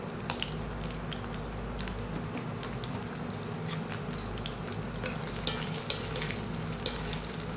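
Onions frying in a pan until nearly charred give a soft, continuous sizzle and crackle at low volume, with a few faint clicks of stirring and no voices.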